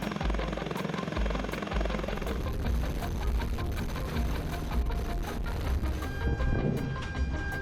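US and German attack helicopters lift off together in a mass takeoff, a loud continuous thudding rotor roar with engine whine, close and steady throughout.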